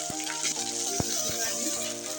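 Spice and ginger-garlic paste fries in hot oil with a steady, close sizzling hiss throughout, broken by a few soft knocks of a stirring spoon against the pan.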